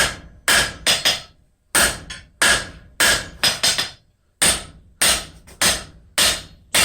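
Hammer planishing a copper leaf hook on an anvil face: about a dozen sharp, ringing metal strikes in uneven clusters of two and three, close and loud, each decaying briefly before the next.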